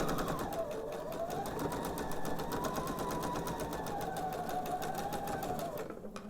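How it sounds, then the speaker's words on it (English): Sewing machine stitching a quarter-inch seam while piecing a quilted table topper, a fast steady whirring hum running continuously for several seconds before slowing at the end, faint and close. "And I'm going to sew a 1/4 inch seam."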